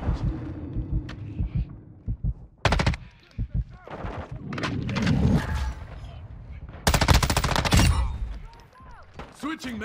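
Gunfire in the video game Modern Warfare 2 comes in sharp bursts and single shots, some loud and close, some more distant, scattered among other game sounds and a voice talking.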